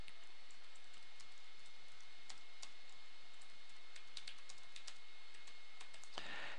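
Keyboard typing on a computer while a caption is entered in Microsoft Word, soft scattered key taps that cluster into a quicker run toward the end over a faint steady hiss, near and quiet, no speech.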